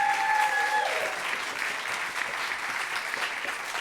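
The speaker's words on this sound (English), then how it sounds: "You can applaud if you like." A live show audience at Crazy Coqs applauds for a Marilyn Monroe tribute act, a warm, sustained wash of many hands clapping at steady loudness after a short tonal sound at the start.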